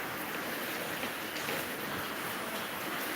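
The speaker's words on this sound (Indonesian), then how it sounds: "masih hujannya, masih gerimis," Light drizzle falls steadily outdoors, a soft continuous hiss with no distinct drops or breaks, and no voices present.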